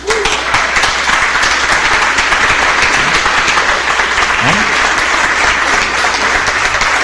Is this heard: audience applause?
yes